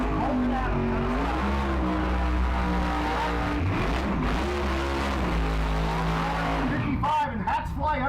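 A Pro Charge 55 Chevrolet Chevelle drag race car roars loudly and continuously, engine pitch rising and sweeping under an announcer's voice, with a tire squeal near the end.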